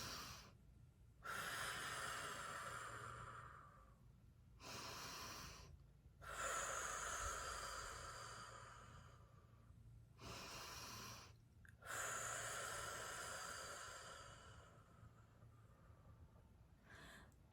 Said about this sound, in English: So here we go. 3 deep breaths.